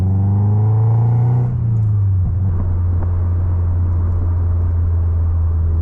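A 2001 Mazda MX-5 NB2 Miata engine running while driving, a loud steady low drone heard from inside the car, with a brief shift in pitch early on before settling into an even hum.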